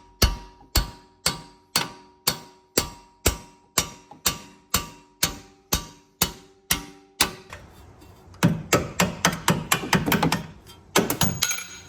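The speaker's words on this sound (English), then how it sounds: "we're gonna need a bigger hammer for that" Sharp metallic hammer blows ring out on a stuck bolt during a Fiat Pop front shock absorber replacement, about a dozen evenly spaced strikes, then heavier, more irregular banging follows, loud and close.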